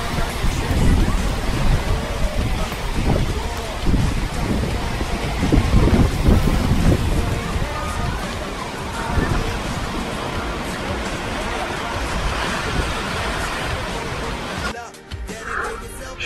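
Heavy rain pours down during a storm in a dense, loud, continuous roar with low rumbling underneath, ending with a brief change in the sound near the close.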